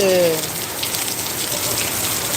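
Steady rain falling at the Tiruvannamalai Annamalaiyar temple, a dense continuous hiss throughout with a brief tonal sound at the start.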